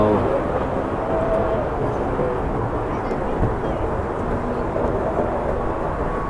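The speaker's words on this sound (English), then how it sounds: "there's a plane again there" Airplane passing overhead during a Christmas boat parade, a steady low rumbling drone that holds evenly under outdoor crowd noise.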